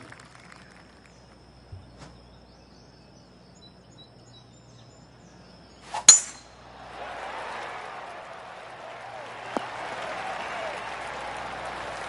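Golf crowd applause in a PS4 golf video game, a soft steady wash of clapping after a sharp club strike, moderately distant, with light commentary nearby.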